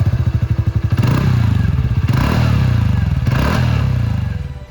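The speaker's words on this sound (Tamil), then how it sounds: "போல்ட் அண்ட் ஸ்போர்ட்டியான எக்ஸாஸ்ட் நோட் இம்ப்ரெசிவாக இருக்குது." A TVS NTORQ 125 XT scooter's exhaust, loud and close, starting with a rapid, even idle putter and then swelling through several throaty revs with slight clatter.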